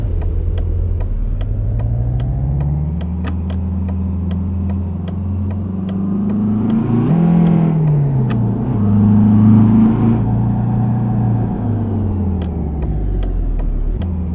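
A simulated car with a 1.4 TSI engine hums and drones at steady cruising speed in a truck driving game, its pitch rising and falling gently with throttle, with small clicks over the top.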